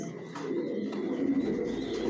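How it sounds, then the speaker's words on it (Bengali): Racing pigeons in a loft coo softly and continuously, low rolling calls overlapping one another close by, with faint rustling in the background. "টপ কোয়ালিটির কবুতর পালি"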